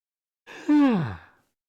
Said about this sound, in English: I felt that yawn coming